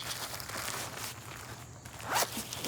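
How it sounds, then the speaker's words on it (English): A zipper is pulled shut on a small bag while packing for a family trip, a close, fairly quiet raspy run with a couple of brighter tugs near the end. "Zip that up"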